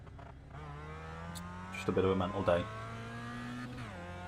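A car engine in a racing video game, a faint, steady engine drone with a short burst of revving in the middle, under someone talking.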